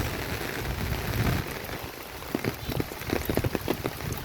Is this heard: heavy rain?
yes